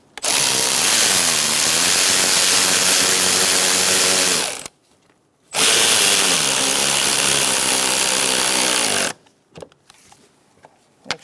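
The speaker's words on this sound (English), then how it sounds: "And now we're going to tighten down our hose clamp." A power tool tightens a hose clamp on the AC line of a 2002-2006 Toyota Camry 2.4, whirring loudly in two long continuous bursts separated by a brief pause, followed by a few quiet clicks.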